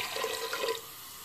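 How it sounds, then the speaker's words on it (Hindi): Water is poured into a cooking pot (handi) for chicken feet soup: a soft, continuous, fairly faint splashing pour that trails off after about a second. "तो ये हम पानी डाल लेंगे"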